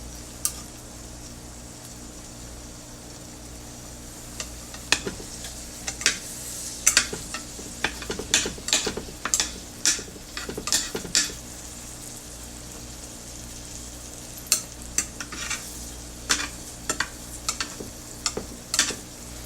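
Scrambled omelette cooking on low heat in a pan, with a soft continuous sizzle under clustered scraping and clinking strokes of a utensil stirring against the pan, close and fairly quiet.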